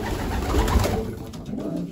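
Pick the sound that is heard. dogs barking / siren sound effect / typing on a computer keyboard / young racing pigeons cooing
young racing pigeons cooing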